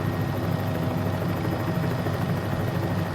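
A helicopter flying in Microsoft Flight Simulator gives a steady, unbroken rotor and engine drone that stays loud and even throughout, with no speech.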